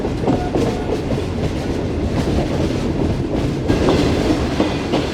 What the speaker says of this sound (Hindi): महरान ब्रिज के अंदर लोकोमोटिव पहुंच चुका है, डब्बे आहिस्ता आहिस्ता पहुंच रहे हैं।